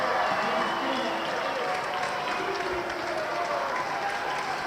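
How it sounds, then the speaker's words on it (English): An indoor cricket crowd at a junior world series match applauds and cheers in a steady, dense wash of clapping and chatter that holds at an even level throughout. "the crowd getting noisy in here"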